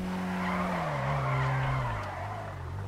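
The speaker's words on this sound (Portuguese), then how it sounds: "Vamos fazer um drift aqui, hein?" A car drifting in GTA V, with a loud continuous tire squeal sliding downward in pitch over a revving engine, close and sustained for a few seconds.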